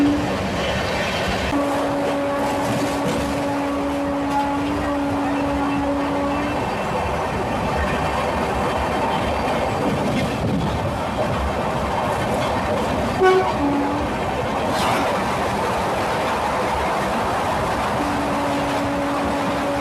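The Thiruvananthapuram–Chennai Mail Express rumbles past on the rails, its horn sounding in long sustained blasts, stopping and then returning, over clattering wagon noise and a brief sharp clank, with occasional background voices.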